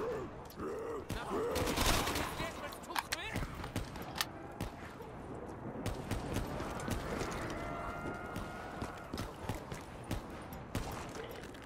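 Dragon gun firing in Black Ops 3 Zombies on the Ascension map, rapid crackling bursts and clattering shots layered over busy game noise, with a voice talking over the top.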